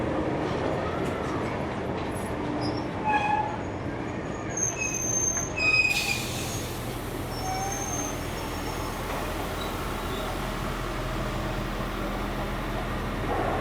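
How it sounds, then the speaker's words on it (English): Steam locomotive 4501 pulling into a station at Hunter Valley Steamfest in New South Wales, a steady rumbling roll of wheels on rails with squeals and clanks, moderately distant and continuous, with faint voices around. "4501 is now seen pulling in from Branxton with 3265 once again"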